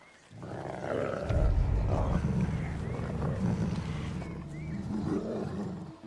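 A wolf in a forest survival film growls and roars deep and loud at close range, a rumbling snarl that rises and holds for several seconds before trailing off.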